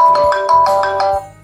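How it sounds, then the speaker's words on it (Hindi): Apple ringtone playing on a Jio Phone, a bright repeating marimba-like melody of quick plucked notes in a steady rhythm, loud and close, heard alone and fading out at the end. "मैं आपको एक बार प्ले करके दिखाना चाहता हूँ कि कैसा इसका साउंड है एप्पल रिंगटोन का।"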